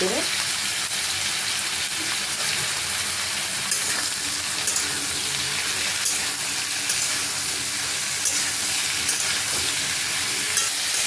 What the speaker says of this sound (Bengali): হালকা নেড়ে চেড়ে নিয়েছি